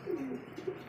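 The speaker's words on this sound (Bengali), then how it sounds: "দেখার মতো এমন সুন্দর এক জোড়া কবুতর দেখেন" A pair of Iranian pigeons coo in short, soft, throaty bursts, close by and on their own.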